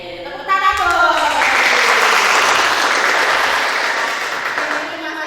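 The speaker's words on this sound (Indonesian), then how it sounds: "Oke, tepuk tangan dong." Sustained audience applause in a classroom presentation setting, dense steady clapping from a room full of people, loud and continuous, tapering slightly toward the end; a voice is briefly heard at the start.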